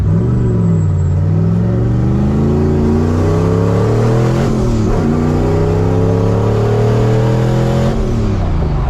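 A turbocharged Fox Body Mustang notchback with a built 302 V8 accelerating hard, its loud engine note rising steadily through the revs, then dipping at a brief shift before climbing again, close and continuous with no talking.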